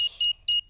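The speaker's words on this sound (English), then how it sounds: "Switch the alarm back on." A cartoon home alarm being switched back on gives three short, bright electronic beeps in a quick uneven pattern, clean and close with nothing else around them.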